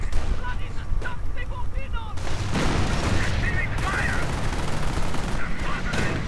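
Tanks and riflemen trade gunfire in a World War II strategy game, with Panzer IVs under attack. Dense, continuous shooting and blasts rattle throughout while a voice talks over it.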